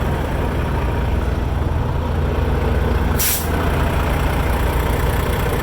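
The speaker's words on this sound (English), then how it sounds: "Hear it? It's a normal sounding APU." A truck's auxiliary power unit runs at close range with a loud, steady diesel drone and a brief airy hiss partway through.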